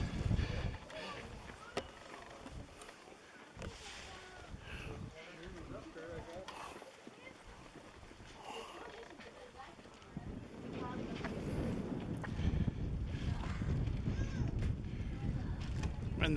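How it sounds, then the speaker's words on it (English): Wind gusting across the Clingmans Dome mountain viewpoint in the Smoky Mountains, a steady low rumble of buffeting against the microphone that swells louder in the second half, with people talking over it. "the wind picks up"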